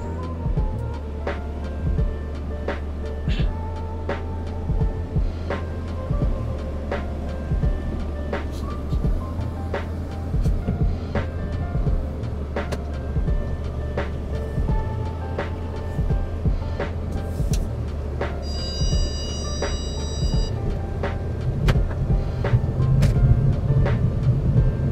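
A Mercedes CLA250 with a dual-clutch transmission cruises on a test drive, a steady low engine and road hum inside the cabin with faint ticks and clicks, rising slightly toward the end.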